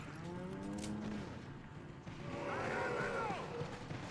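Cow in the video game Resident Evil 4 lowing twice, a drawn-out moo at the start and another midway, moderately loud among game sounds, with a voice talking faintly underneath.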